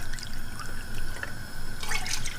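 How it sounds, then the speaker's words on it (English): Four cups of milk pour steadily into a pot for shahi paneer, a close, continuous liquid stream that swells into a louder splash near the end. "So we have to add 4 cups of milk."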